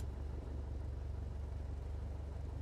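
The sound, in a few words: Piper Warrior aircraft taxiing, flight simulator video game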